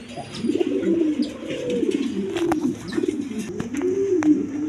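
Caged breeding pairs of pigeons, including a pair near laying, coo over and over in close, steady rolling phrases with short pauses, alone without talk.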